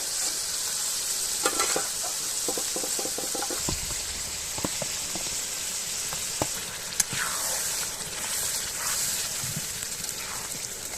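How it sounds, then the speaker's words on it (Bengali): Dried fish, dried chili and onion-garlic paste fry in hot oil with a steady, close sizzle, broken by scraping stirs and occasional knocks of a utensil against the pan. No one talks. "শুটকি, শুকনা মরিচ, পেঁয়াজ রসুন বাটা এখানে তেলের মধ্যে দিয়ে দেওয়া হয়েছে।"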